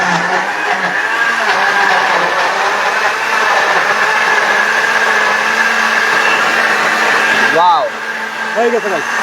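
A robot food processor in blender mode runs steadily at a loud, even whine for most of the stretch, then stops near the end as a voice briefly rises over the fading motor.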